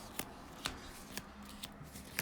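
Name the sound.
shuffling a deck of game cards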